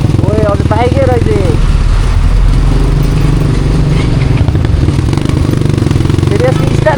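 A motorcycle engine runs with a steady low throb on a street in Tansen, heard up close while people talk loudly over it.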